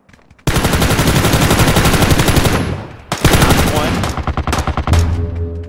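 Sustained automatic gunfire rattles loud and close in a multiplayer shooter game, long continuous bursts with a short pause, then choppier shots, while players talk over it.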